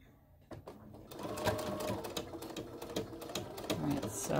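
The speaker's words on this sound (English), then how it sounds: "I'm going to stitch this down, go a few stitches." A sewing machine stitches a rod pocket on a quilt, starting with a few separate stitches before running in a fast, steady mechanical rattle, close and clear with faint talk underneath.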